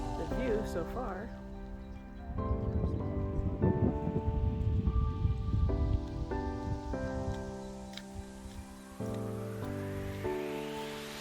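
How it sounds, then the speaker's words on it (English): Steady rain falls in Madeira, a continuous soft hiss with people talking over it throughout. "Still raining."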